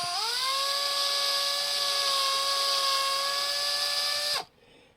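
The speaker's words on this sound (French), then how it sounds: "Forêt de 2 mm, bien droit." A drill fitted with a 2 mm bit bores into a carburetor bowl for an 80cc engine, a steady high whine with a slight pitch rise at the start, running continuously for over four seconds before stopping abruptly.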